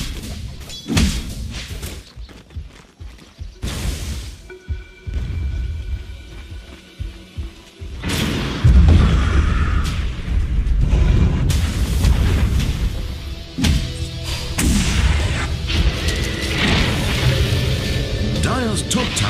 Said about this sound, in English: Dire's top tower is under siege. Dire's top tower is being attacked.